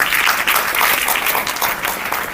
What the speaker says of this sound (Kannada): ಇವನಿಗೊಂದು ದೊಡ್ಡ ಚಪ್ಪಾಳೆ